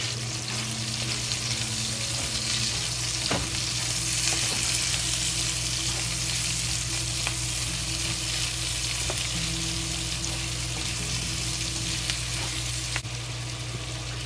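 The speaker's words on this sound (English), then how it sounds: "Fry it." Crispy browned sausage and freshly added onion fry together in a pan, making a loud, constant sizzle with occasional stirring knocks and no voices.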